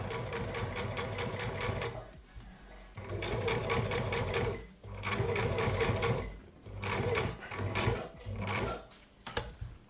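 Sewing machine running in bursts as it stitches double-layer fabric shut over the pocket holding a mask's metal nose bar, a loud close mechanical chatter with short pauses between runs.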